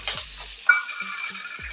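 Green chilli dropped into a cumin and mustard seed tempering in hot groundnut oil, giving a soft steady sizzle with a couple of sharp crackles and light metallic stirring clinks.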